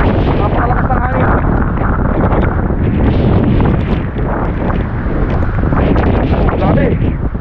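Very strong typhoon wind roars and buffets continuously beside a rising river, loud, dense and gusting throughout, with a brief lull midway.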